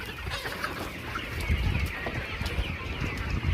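Ten-week-old layer chickens cluck steadily on a farm, a dense chorus of overlapping bird calls that grows slightly louder partway through.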